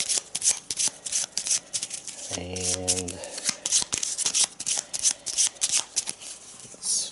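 A stack of Arkham Horror game cards being shuffled produces repeated quick riffling and rubbing bursts in a loose rhythm. A person talks close by, and a brief voice sound cuts through the middle.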